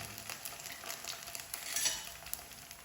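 Ghughra frying in a pan over a full gas flame until crisp, a soft steady sizzle with faint crackles, quiet and close, with no voices.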